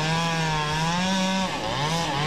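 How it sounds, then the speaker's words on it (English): Chainsaws cut down Asian longhorn beetle-infested trees along Schaller Road in Clermont County, with a loud, continuous engine whine that dips briefly in pitch as the blade bites. "The sound of chainsaws filled the air Monday on Schaller Road"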